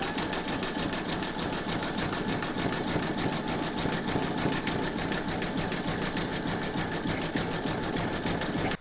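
An embroidery machine stitches a zigzag join on an in-the-hoop crazy patch evening bag, running as a loud, steady, rapid mechanical whir and clatter throughout with no pauses.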